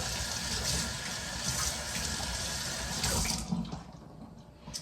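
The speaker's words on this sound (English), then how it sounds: "I'm gonna wash my celery real quick." Tap water gushes steadily into a kitchen sink as celery is rinsed, a close, continuous splashing stream that cuts off near the end, leaving faint drips.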